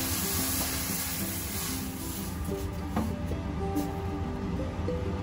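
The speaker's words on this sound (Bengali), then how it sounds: "প্রথমে কড়াইতে একটু জল দিয়ে দিচ্ছি।" Water poured into a hot wok sizzles with a steady hiss, close and fairly quiet, with a few faint clinks and no talk.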